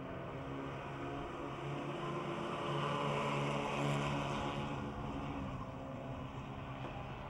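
Stock cars roar away together at the green flag at Motordrome Speedway, a dense, steady engine drone that swells to a peak midway and then holds loud and continuous, with no talk over it.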